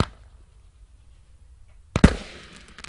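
A 'Nordlys' consumer firework going off after near silence, a sudden loud burst of sharp bangs and crackles.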